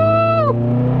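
A Nissan S13 with a KA engine revs near and loud, a tonal engine whine that holds steady and then drops sharply as the throttle comes off, with no talk.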